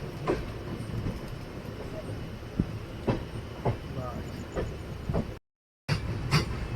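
A Capital Express (13246) passenger train running on its line through Bihar, with steady rumbling rail noise and periodic clicks of wheels over rail joints throughout, briefly cut out near the end before resuming.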